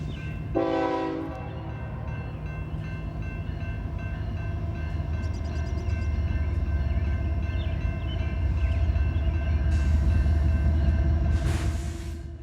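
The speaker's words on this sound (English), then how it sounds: "It's yet another coal train, this time loaded, headed for Springfield." A heavy, loaded BNSF coal train rumbles steadily past close by on the Fort Scott Subdivision, a short horn blast near the start, with continuous rail noise and wheel squeal throughout.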